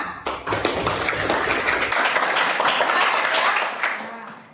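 Audience applause for a student presenter at a university class presentation, a dense burst of clapping that swells quickly, holds steady for a few seconds, then tapers off.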